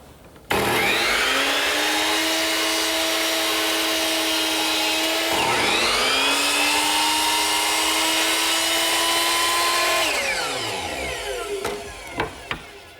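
A miter box saw set to 20 degrees cuts a wooden baluster with a steady, loud motor whine through two long continuous cuts, then winds down with a few light knocks at the end.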